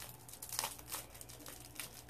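Faint crinkling and tearing of a candy wrapper being ripped open, with a few quick crackling bursts of plastic close by.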